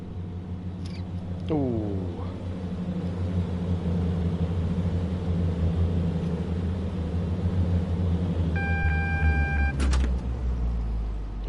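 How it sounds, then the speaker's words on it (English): A turbo train passing by in the Train Sim World 2 video game, a low rumbling roll that swells in the middle, with a brief whine and a short interjection from a nearby voice. "There's the turbo going by."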